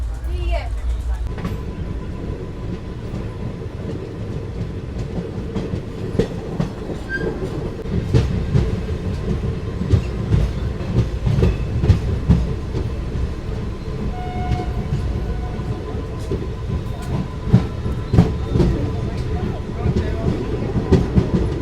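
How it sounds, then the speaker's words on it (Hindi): Geeta Jayanti Express rolls along the rails toward Maharaja Chhatrasal station at Chhatarpur, Madhya Pradesh, heard from inside a coach: loud steady rumble with rhythmic wheel clacks and occasional metallic clicks, with voices speaking through it. "तो अभी अपनी ट्रेन पहुंच चुकी है महाराजा छत्रसाल रेलवे स्टेशन"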